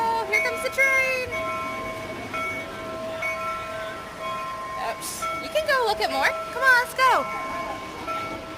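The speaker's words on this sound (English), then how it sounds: "Whoa, here comes the train." A model train runs through a holiday train display at the Cincinnati Museum Center, rumbling and clicking along the track with occasional whistle-like tones, while an adult and someone talk over it.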